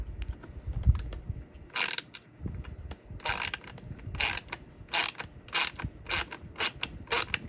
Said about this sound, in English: got this fancy little ratchet here